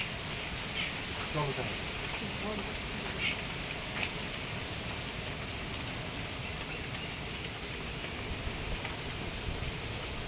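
Steady rain from Cyclone Remal pours down continuously in the Sundarbans, a dense even hiss, with a few faint bird chirps now and then.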